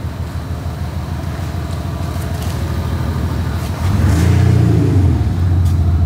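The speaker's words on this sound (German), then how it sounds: "Ey, gib mal ein bisschen Gas." A car engine in dynamic mode revs under throttle, a steady near idle rumble that swells into a louder, deeper rising roar toward the end, with no voices.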